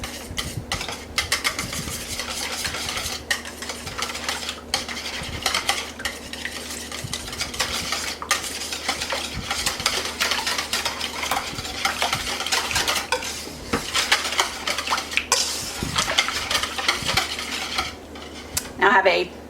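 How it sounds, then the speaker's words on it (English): Greek yogurt and whole milk whisked together in a bowl for apple pie bread pudding, a steady scraping, clinking whisk against the bowl running continuously and fairly close, with no talking. "I'll whisk all of that together."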